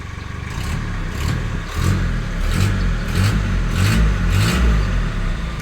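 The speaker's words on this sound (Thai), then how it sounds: "ติดแล้วครับสตาร์ทง่าย" A 1996 Mighty-X pickup's engine runs loud and close after starting, a steady rumbling idle with rhythmic pulses and small surges.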